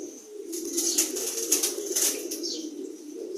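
Several quick bursts of wing flapping, close and fairly loud, over a constant low hum.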